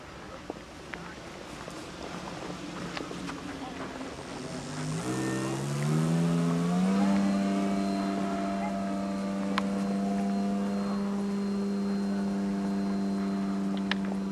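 Seawind light aircraft flying over snow with its engine droning steadily, rising in pitch to a sustained whine as it climbs, with faint talk nearby and the sound continuing for the whole stretch.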